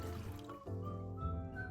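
Water poured into a pot of soaked, drained red beans, a short, quiet liquid trickle and fill with a faint pause partway through.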